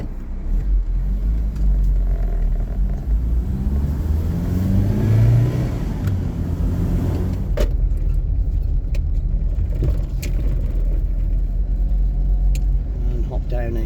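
An Austin Princess engine rumbles and revs while moving off after long storage, with double-clutched gear changes and some clutch judder; the low drone is steady and loud throughout, with a voice talking over it.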